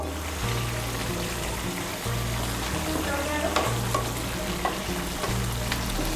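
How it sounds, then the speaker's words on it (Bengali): Cauliflower curry bubbles and sizzles in a pan over high heat as a spatula scrapes and turns it in steady, rhythmic strokes; a continuous close frying hiss with no voices. "এখন আঁচটাকে বাড়িয়ে আমি একটু নাড়াচাড়া করে নেব।"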